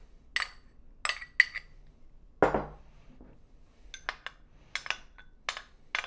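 A spoon scrapes and clinks against a bowl while mayonnaise, relish and ketchup are mixed into a sauce for a Reuben sandwich. There are a series of short, separate taps and one heavier knock, all close and fairly quiet.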